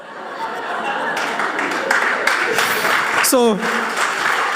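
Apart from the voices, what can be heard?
audience clapping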